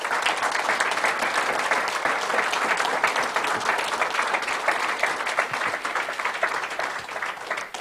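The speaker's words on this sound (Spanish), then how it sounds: "¿Se animaría a dar un aplauso al Señor en esta tarde?" A church congregation bursts into loud, dense applause, with continuous clapping that fades slightly toward the end.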